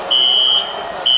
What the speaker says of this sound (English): It's like the fire alarm going off here in the gym.